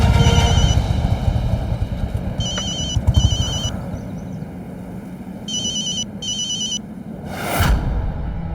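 An electronic telephone ring in a Hindi TV drama scene, sounding in short trilling bursts that come in pairs over a low rumbling background, followed by a whoosh near the end.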